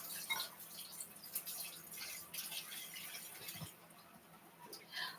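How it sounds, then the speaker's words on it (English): A spoon washed under a running kitchen tap, giving a faint, steady splashing stream with small clinks and drips, quiet and close. "let me wash off my green spoon"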